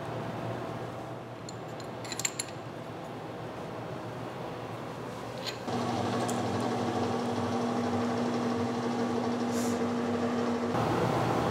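A metal lathe with a knurling tool rolling a knurl pattern into a workpiece on a quick-change tool post, giving a steady mechanical drone with a faint hum that rises partway through, plus a few small clicks.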